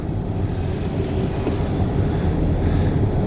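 Steady low engine rumble of a running Volvo car after flywheel repair, even and continuous throughout with no knocking and no speech.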